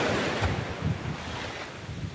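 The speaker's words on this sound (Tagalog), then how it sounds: "grabe ang lakas ng alon" Strong ocean waves break on a beach where people wade in the sea, producing a steady, loud roaring wash of surf with wind buffeting the microphone and no voices heard.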